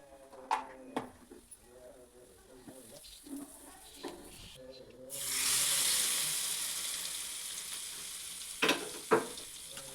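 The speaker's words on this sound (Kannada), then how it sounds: "ಎಣ್ಣೆ ಕಾದ ನಂತರ ಸಾಸಿವೆ ಜೀರಿಗೆ ಸ್ವಲ್ಪ ಹಿಂಗೆ ಹಾಕಿ" Mustard seeds and cumin drop into hot oil for hunase tokku, a tamarind pickle, bursting into a loud steady sizzle midway after quieter kitchen sounds and speech, with a few sharp taps near the end.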